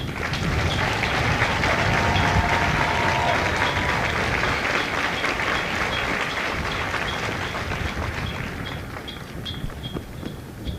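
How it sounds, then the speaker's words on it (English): A large audience at a Marine Corps recruit graduation ceremony at MCRD San Diego applauds loudly and steadily, the clapping holding strong before easing off slightly toward the end. "please join me in a round of applause for the company staff"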